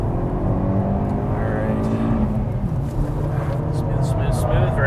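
A race car on a track pulls hard at full throttle, its engine rising loud and close, while a driving coach talks over it.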